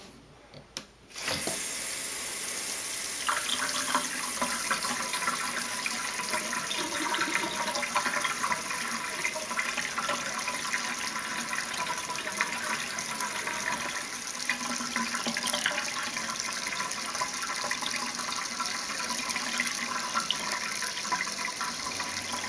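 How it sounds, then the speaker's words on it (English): A pump in an RV's water system kicks on after a short pause and runs with a continuous rushing hum of flowing water for about twenty seconds, fairly faint and steady. "turn the water pump on here"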